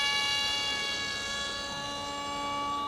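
A YF-23-inspired RC jet-style plane flying at half throttle, giving a steady high whine with sharp tonal harmonics, moderately distant and constant throughout.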